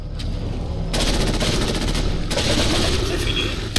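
Sustained automatic gunfire in Fallout 4 bursts out loud and close after a quieter opening, with rapid rattling volleys that pause briefly and then resume, and no voices over it.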